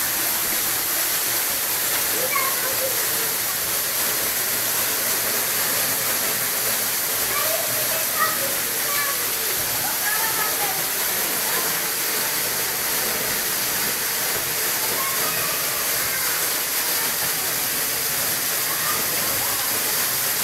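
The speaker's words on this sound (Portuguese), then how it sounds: "E a cascata cai ali na frente, ó." A waterfall cascades in a waterfall park, producing a constant broad hiss of falling water at middling distance, with faint chirps and scattered voices in the background.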